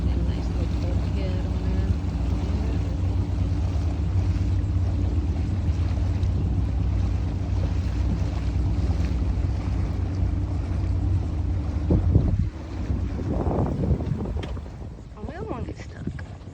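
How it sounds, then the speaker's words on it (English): A motorboat runs on the water at Nassau Sound near the Amelia River, a steady low engine drone mixed with wind buffeting the microphone, with a brief burst of talking near the end as the noise eases. "A boat up there."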